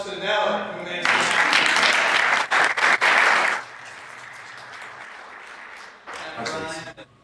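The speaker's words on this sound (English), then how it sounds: "Let's give a great round of applause to Nellie," An audience at a Safe Haven Foundation event with Congressman Patrick Kennedy bursts into loud, dense applause for about two and a half seconds, then it fades to a softer background murmur with a brief later swell.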